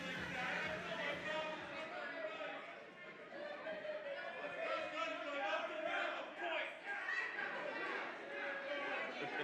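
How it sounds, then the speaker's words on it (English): A wrestling crowd at an OCCW event meows in scattered support of the Felines tag team, a steady roar of many voices filling the arena throughout. "You can hear the smattering of meows"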